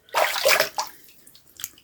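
Water splashing as a face is rinsed after a shave: a few short, close bursts of running and splashing water, the first the longest, then smaller splashes and drips fading out.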